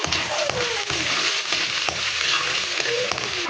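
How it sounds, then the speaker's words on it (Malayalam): Urad dal, ginger and green chilli frying in hot oil, a steady close sizzle with occasional scrapes and stirring clicks, no voices. "ഇതൊന്ന് മൂത്ത് വരുമ്പോഴത്തേനും നമുക്ക് ഇഞ്ചിയും പച്ചമുളകും കൂടെ ഇട്ട് കൊടുക്കാം"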